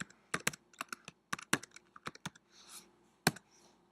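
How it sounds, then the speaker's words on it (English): Keys on a computer keyboard clatter in quick, uneven bursts of crisp clicks, a short pause then a final sharp keystroke, close and clear with no talking. "I'm going to type in here Blue Devil"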